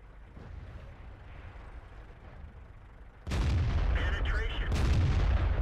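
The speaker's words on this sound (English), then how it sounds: "245mm penetration shells are ripping apart these tier 7 heavies at range" Tank cannon fire in the World of Tanks video game, with 245mm-penetration shells hitting tier 7 heavy tanks: a quieter rumbling stretch, then a sudden loud blast and sustained roaring boom.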